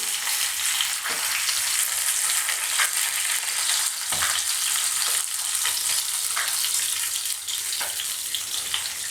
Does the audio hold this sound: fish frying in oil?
yes